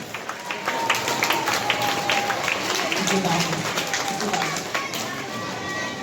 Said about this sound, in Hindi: तो एक बार इन लोगों के लिए जोर से तालियां हो जाए।